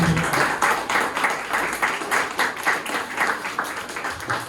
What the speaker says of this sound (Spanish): Damos un aplauso a nuestro Señor.